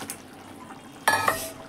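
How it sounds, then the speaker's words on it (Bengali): Fried fish dropped into a pot of boiling fish curry, a quiet bubbling simmer followed by a sudden louder splash and sizzle near the end, no voices. "এখানে মাছের ঝোলটা ফুটছে"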